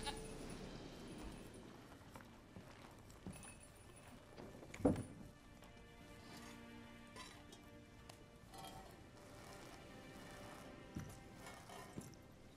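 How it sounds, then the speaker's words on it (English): A goat bleats once, briefly and fairly loud, over a quiet farmyard ambience with faint dripping in The Witcher 3 video game. "Milk that goat."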